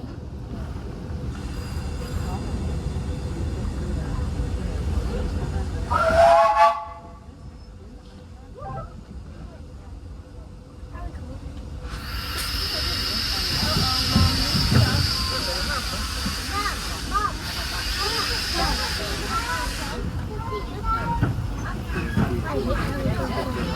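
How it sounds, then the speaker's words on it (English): A Disneyland Railroad steam train rumbles and clatters along the track, with a brief squeal of wheels and a long loud hiss of escaping steam, while crowd murmur and speech are heard throughout. "welcome aboard the Disneyland Railroad"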